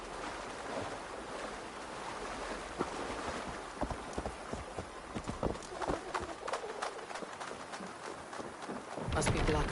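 Horse hooves clop in a quick, uneven rhythm over a wash of steady ambient noise in Assassin's Creed Valhalla, ending in a louder rush.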